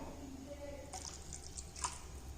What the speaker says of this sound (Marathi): इथं आणखी थोडंसं पाणी ओतणार आहे